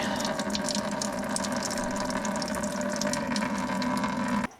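Coolant drains in a steady gushing trickle from the radiator of a Jeep TJ with the 4.0 engine, a constant close splashing wash that cuts off abruptly at the end.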